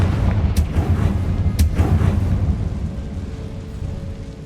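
A Confringo fire-blast spell in the game Hogwarts Legacy, landing as loud booming explosions, with two sharp bursts followed by a long rumbling roar that gradually fades.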